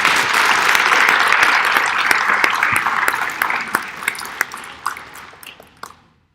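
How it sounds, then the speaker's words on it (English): Audience applause for competition judges fills a hall, dense at first and then thinning into scattered individual claps before fading out. "Please have a round of applause for our judges."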